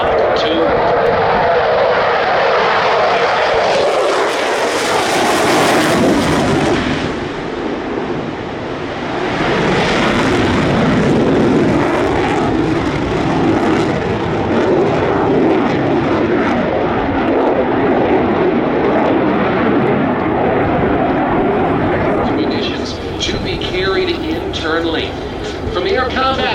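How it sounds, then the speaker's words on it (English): An F-22 stealth fighter jet thunders through an airshow pass, a loud, sustained roar that swells and fades in waves and stays dense throughout, with a commentator talking over it. "From the Air Combat Command's aerial demonstration teams, of course, the F-22 team joining us from Joint Base Langley-Eustis."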